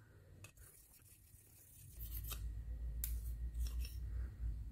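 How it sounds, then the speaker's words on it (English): The flat side of scissors rubs and scrapes against a brass spoon being shined, quiet scraping strokes at first, then steadier rubbing that grows louder and closer. "Just going to take the flat side of the scissors."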